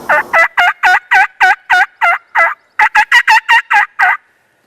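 A wild turkey gobbles in the woods with a loud, close series of sharp, rapid, regularly spaced notes, a brief pause, then another fast run before silence.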